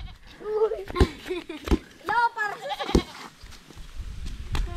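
A playful goat bleats several times in quick, wavering calls, close by, while people talk and laugh around it.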